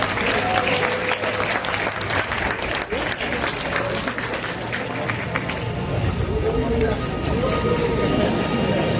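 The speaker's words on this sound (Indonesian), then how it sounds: "Boleh kita berikan tepuk tangan yang meriah." At a national engineering meeting, a seated audience applauds warmly with continuous dense clapping, faint voices and a few tonal calls mixed in throughout.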